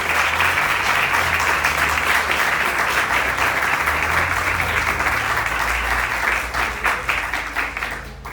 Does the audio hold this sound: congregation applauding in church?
yes